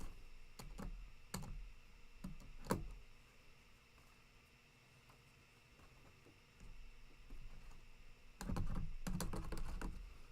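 Keycaps pulled off a mechanical keyboard with a keycap puller, producing scattered sharp plastic clicks and snaps, quiet and close, in two clusters separated by a calmer stretch.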